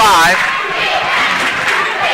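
Crowd noise from Farmington fans at a girls' district final basketball game against Prairie Grove, a loud, steady roar of cheering and chatter filling the gym, with voices talking throughout.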